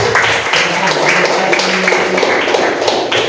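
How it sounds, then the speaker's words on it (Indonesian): Classroom clapping for a student group, a dense patter of many hands striking together continuously at close range and fairly loud, with a few voices mixed in. "tepuk tangan untuk kelompok 1"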